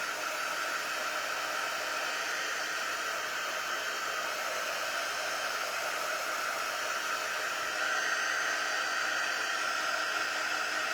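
Hair dryer drying a coat of paint on a cutout, blowing a steady, loud, close airy roar for the whole stretch with a slight rise in intensity near the end, no talking.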